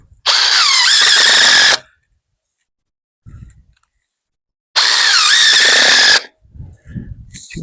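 Cordless power drill driving screws into a gate's load-bearing hinge runner, two loud whirring bursts of about a second and a half each with a pause between, plus faint handling knocks.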